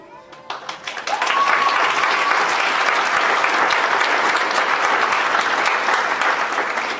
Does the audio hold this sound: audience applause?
yes